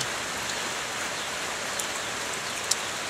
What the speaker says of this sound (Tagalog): Ito, umuulan na naman.